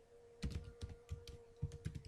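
Keys tapped on a computer keyboard in short bursts, a quiet run of clicks with small pauses between groups, alone over a faint steady hum.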